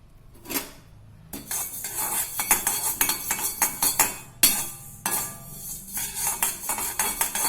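Fenugreek seeds (methi dana) go into a pan with dense, rapid clicking and pattering, mixed with clinks and stirring scrapes of a utensil against metal, close and continuous without speech.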